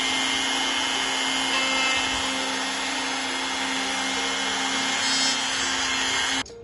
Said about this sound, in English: this jig will allow us to route out just enough material that then that hinge will sit perfectly in there